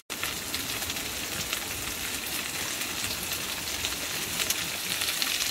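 Burgers and peppers frying in a pan, a steady close sizzle with crackling spatter that runs unbroken for the whole stretch, no voices over it.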